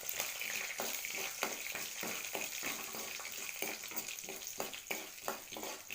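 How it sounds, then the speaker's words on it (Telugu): Tempering spices crackle in hot oil for an onion tomato curry: a steady close sizzle with a run of sharp, irregular clicks and taps from stirring, fairly quiet, with no voices. "ఆయిల్ హీట్ అయ్యిందండి, పోపు దినుసులు వేద్దాం"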